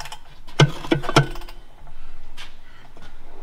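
Ratchet wrench cranking bolts while a transmission is installed, giving a short burst of three or four quick metallic clicking strokes close by, followed by quieter faint handling noise.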